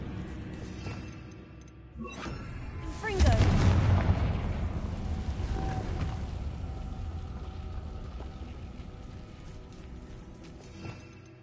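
Spell explosions in a video game: a loud blast bursts out around the three-second mark, followed by a long rumbling decay with scattered crackles, and voices talking lightly underneath.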